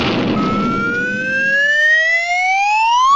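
A cartoon volunteer fire department engine's siren winds up loud and close, its steady tone rising in pitch over a few seconds with no talking.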